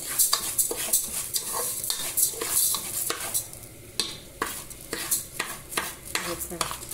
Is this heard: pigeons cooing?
no